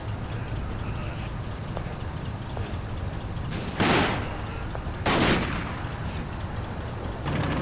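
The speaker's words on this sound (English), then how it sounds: "an enemy MG42 in a forest ahead stops us dead in our tracks" German MG42 machine gun firing in the Combat Mission: Red Thunder wargame: two sharp bursts of gunfire, a few seconds apart, cut through a constant rumbling battlefield background.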